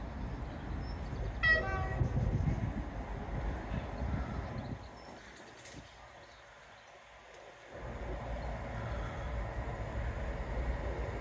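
A train arriving at a station rumbles steadily nearby, with a short horn toot early on and a brief lull in the noise before the rumble resumes.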